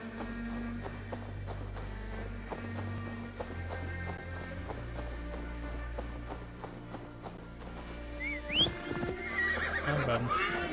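A horse in the open-world game Assassin's Creed Valhalla, with steady hoof clip-clops at a walking pace under low background music, then a loud neigh and whinny near the end.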